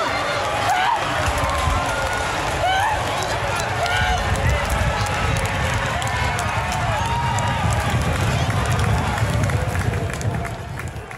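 A crowd of about 3000 spectators at the Henkel-Preis der Diana horse race roars in a dense, continuous wash of cheering that lasts throughout and drops off at the end, under loud race commentary.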